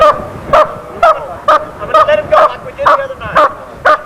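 A dog barks during a training session, about nine sharp, regularly spaced barks roughly half a second apart, loud and close, while someone speaks over them.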